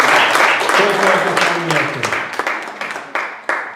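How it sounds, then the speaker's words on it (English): An audience applauds at a Toastmasters club meeting celebration, with steady clapping at first that thins into a few scattered, separate claps as it fades, and voices are heard over it. "Big round of applause."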